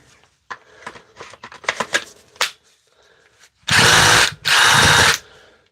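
A Dewalt cordless drill with some play in it runs in two bursts of about half a second each, loud and close, after a stretch of handling clicks and rattles.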